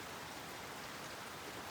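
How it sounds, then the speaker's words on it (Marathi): Heavy monsoon rain pours steadily on a waterfall trek, a dense continuous hiss with no voices. "काय आणलं तर पाऊस पडतोय."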